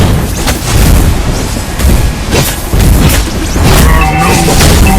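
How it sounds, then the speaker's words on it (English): A turret being destroyed in a mobile battle arena game, heavy booming blasts and crashing impacts in a dense, loud burst of game effects. "Your team destroyed the turret!"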